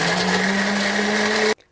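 A blender whirs steadily as it grinds tomato, garlic, shallots and candlenuts, a loud close motor hum that cuts off abruptly near the end.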